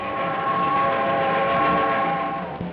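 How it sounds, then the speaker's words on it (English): Train at night, a sustained steady horn-like tone with rail rumble beneath, loud and even throughout, with a short knock near the end. "Somewhere, a child hears the sound of a train."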